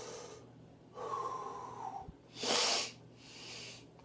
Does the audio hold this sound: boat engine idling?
no